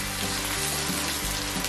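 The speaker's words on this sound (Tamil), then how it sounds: "ஆனியனை வந்து இப்போ நம்ம வந்து வதக்க போகிறோம்" Onion sautés in a pan with ginger, garlic and green chilli for a vegan soybean stir fry, a loud continuous close sizzle with a slight scrape near the end.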